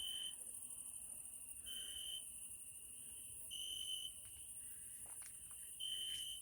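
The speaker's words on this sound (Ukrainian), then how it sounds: "Цвіркуниця, мабуть, чи як вони називаються." Crickets on an evening in a Ukrainian village give a steady high-pitched trill that rises and dips in pulses, close and constant over faint quiet background.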